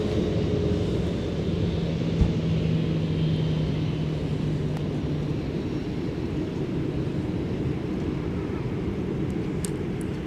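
A jet airliner rumbles at MSP airport on a winter day, a steady low roar with a faint passing whine, fairly distant and constant throughout.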